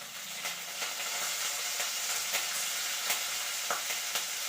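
Curry leaves sizzle in about four spoons of hot oil while a raw-banana chutney is being made, giving a steady close crackling hiss with small pops and stirring clicks throughout.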